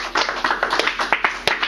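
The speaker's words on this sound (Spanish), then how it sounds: "Un aplauso al Señor." A congregation in a church gives a short round of applause to the Lord, with sharp claps and hand taps rising and falling over under two seconds, moderately loud and close, with no talking.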